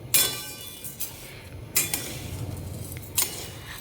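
Thalipeeth bhajani grains being stirred and dry-roasted in a pan over a low flame, giving a few sharp spoon-on-metal clinks and scrapes over a soft, steady rustle.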